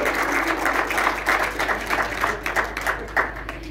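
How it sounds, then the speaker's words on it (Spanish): At an endurance horse riding prize ceremony, the audience claps in a brisk, fairly close round of applause, with individual hand claps audible through the steady patter. "fuertes los aplausos"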